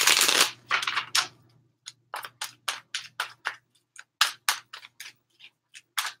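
Tarot cards being shuffled up close: a long riffle at first, then a steady series of short, rhythmic shuffling bursts.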